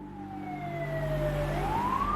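An ambulance siren wails in a falling then rising tone over a low rumble of traffic, steady and fairly loud throughout.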